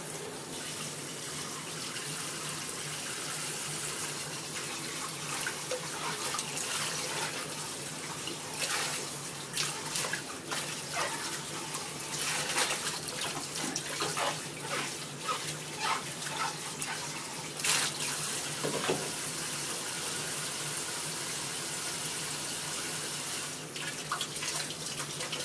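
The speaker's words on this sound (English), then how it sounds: "We have to wash each and every one of these leaves just to make sure" Tap water runs steadily into a sink while fresh leafy greens are rinsed one by one, a continuous faint splashing stream with small sharp splashes and handling noises, and no talking.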